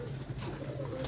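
Pigeons of a breeder's flock coo in a short, low, murmuring burst close by, with no voices present.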